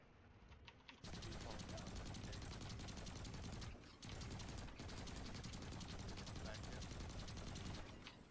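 Turret gunfire in the Planetside shooter game: a rapid, continuous mechanical rattle of automatic shots that starts abruptly, breaks off briefly midway, then resumes, loud and sustained.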